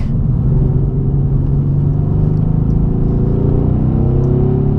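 A 2017 Mercedes C63 AMG S Coupe engine pulls steadily while driving, a loud, continuous low rumble heard from inside the cabin with a slowly shifting tone and no talking.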